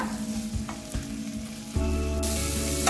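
Ingredients being sautéed in a pan for a sankara fish curry give a hissing sizzle with spoon taps and stirring, then a louder, denser burst of frying and hum in the last second, with no speech.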